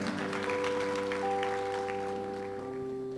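Church congregation applauding during a sermon, a steady wash of clapping over sustained organ or keyboard chords that continue underneath throughout.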